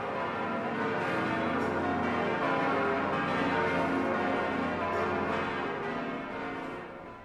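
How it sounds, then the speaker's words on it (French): Church bell ringing in a sustained, dense wash of overlapping metallic tones that hang and blend without pause, moderately loud and gradually fading near the end, with no voices. "La cloche."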